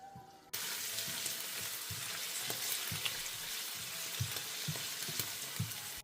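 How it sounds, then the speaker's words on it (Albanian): Canned mushrooms frying in a pan, a steady close sizzle that starts abruptly after a brief quiet moment, with occasional stirring scrapes and soft knocks. "I skuqim këpurdhat për disa minuta derisa të zbuten."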